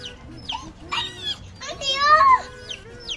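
Baby chicks peep in quick, high chirps, several overlapping bursts close by, while a child and an adult talk nearby.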